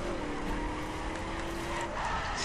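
A car drifting in The Crew Wild Run, engine roaring steadily with a thin, sustained tire squeal running through, loud and close, with no talk.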